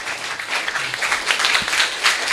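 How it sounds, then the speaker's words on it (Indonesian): An audience at a public event in Banyuwangi applauds, a dense, continuous patter of many hands clapping with small swells in loudness and no speech over it. "Wah, luar biasa, tepuk tangan ya."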